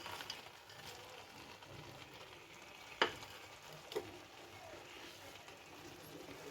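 Carrot halwa with cashews, raisins and khoya is stirred in a pan, giving a faint, low sizzle with two soft scrapes of the spoon standing out briefly.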